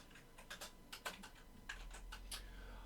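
Keystrokes on a computer keyboard while entering code in Unity, about a dozen light clicks in an uneven typing rhythm, close and fairly soft, with no speech.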